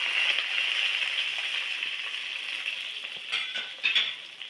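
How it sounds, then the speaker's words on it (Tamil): Onions sizzling steadily in hot oil with curry leaves and green chillies for a fish curry, a continuous close hiss with a few light stirring scrapes near the end. "வெங்காயம் நல்லா வதங்கிருச்சு"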